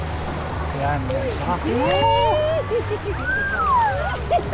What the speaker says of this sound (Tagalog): Ang lakas ng alon eh.